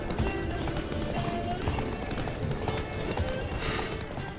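A horse gallops in The Witcher 3: Wild Hunt, with quick, close hoofbeats in a steady running rhythm and a soft whinny partway through.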